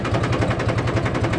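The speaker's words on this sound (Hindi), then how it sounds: "देखो ट्रैक्टर आवाज़ बदल रहा है" A Mahindra 265 tractor engine runs under load in a field, a close, loud, rapid rhythmic diesel chugging throughout.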